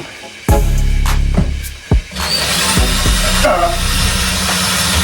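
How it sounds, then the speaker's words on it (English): Power drill pre-drilling a screw hole for a magnetic catch, loud close motor whine in short bursts that starts, stops briefly, then runs steadily under a higher grinding tone. "Let's pre-drill. Pre-drill a hole."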